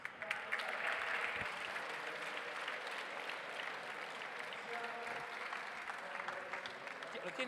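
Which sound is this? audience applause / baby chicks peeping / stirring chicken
audience applause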